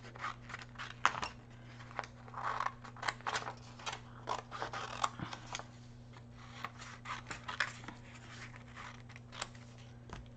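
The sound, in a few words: scissors cutting out a picture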